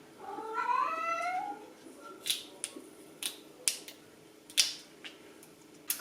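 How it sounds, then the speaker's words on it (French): A cat gives a long, drawn-out meow, asking to go outside, followed by several sharp clicks and taps spaced out in the quiet. "Faut entendre le chat qui réclame pour sortir dehors."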